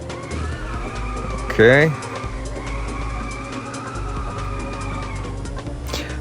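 Car drifting and skidding in the racing game Inertial Drift, a steady engine drone with a brief loud tire squeal partway through, and someone speaking briefly over it.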